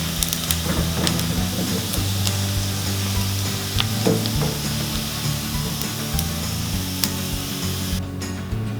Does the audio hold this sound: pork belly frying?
yes